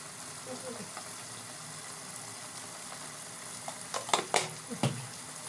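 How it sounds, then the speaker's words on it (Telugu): Chili powder and coriander powder fry in a pan as masala for a spicy brinjal curry, giving a soft steady sizzle with a few louder clinks from stirring near the end, and no talking. "పచ్చివాసన వచ్చే వరకు కొంచెం వేపుకోవాలి"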